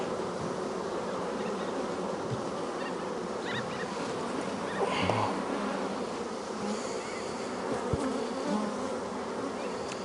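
A dense, steady hum of many honeybees buzzing close by at a hive, continuous and even throughout, with no voices.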